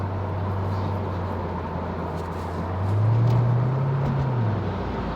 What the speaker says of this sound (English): And you can hear that supercharger.